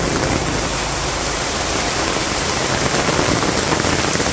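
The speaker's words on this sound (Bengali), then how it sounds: "মুষলধারে বৃষ্টি নামছে।" Heavy rain pours down in a village, a dense, loud, unbroken hiss of falling water with no voices.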